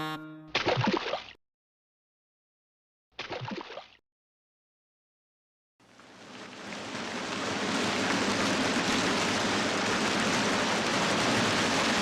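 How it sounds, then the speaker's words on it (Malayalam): Rain in an animated kids' film: two short voice bursts are followed by a dense, steady downpour that swells in after a pause and holds loud and even to the end. "എന്താ ഈ മഴ ചോരുന്ന ലക്ഷണമില്ലല്ലോ"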